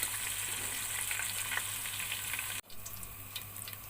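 Potatoes fry in cooking oil with a steady, close crackling sizzle, briefly interrupted by a short break before the sizzling resumes.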